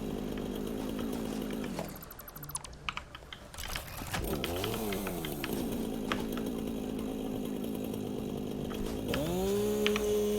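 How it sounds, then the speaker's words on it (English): A chainsaw in the video game Satisfactory cuts through trees, its buzzing engine running loud and steady from start to finish, with a few sharp rising whines where it bites into wood. "Perma chainsaw that's used like 150 fuel already"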